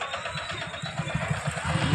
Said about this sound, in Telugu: మోటార్ సైకిల్లో వస్తున్నారు